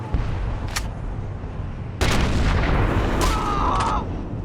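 Booming sniper rifle shots from the World War II shooter game Sniper Elite on PC, loud broadband cracks with a heavy rumbling tail, one near the start and a bigger blast around the midpoint, layered over continuous game ambience.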